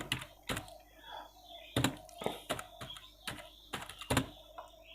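Text being tapped out on a mobile phone keyboard, a close series of quick, irregular taps with short pauses between bursts over a quiet background.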